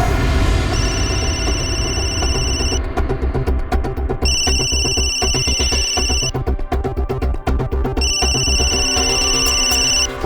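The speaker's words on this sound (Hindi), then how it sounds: "फोन उठाओ।" A telephone rings in repeated electronic bursts, loud and close, over steady background music with no talking.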